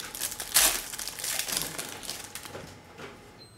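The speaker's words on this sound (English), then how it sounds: "Now let's quickly rip open this pack." A Panini Mosaic NBA trading card pack is ripped open: a sharp crinkling tear bursts out early, followed by softer rustling and crumpling of the foil wrapper close by.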